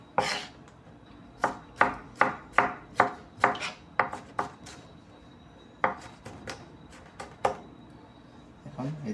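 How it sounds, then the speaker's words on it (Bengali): Knife chopping tomatoes on a board, a quick run of sharp, evenly spaced cuts, a brief pause, then another burst of chops, close and crisp. "সুন্দরভাবে আমরা এখন টমেটোটাকে চপ করে নিলাম"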